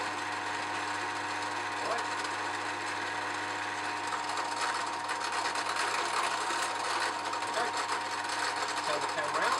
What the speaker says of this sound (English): We're going to start the drill up.